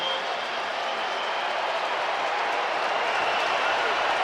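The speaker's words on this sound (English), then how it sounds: "the Dome crowd gets loud for 3rd and 10" Indoor dome stadium crowd at a football game roaring steadily and loudly ahead of a 3rd and 10 play, a dense wash of cheering with no gaps.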